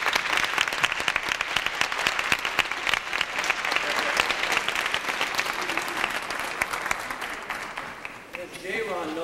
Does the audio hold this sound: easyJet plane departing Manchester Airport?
no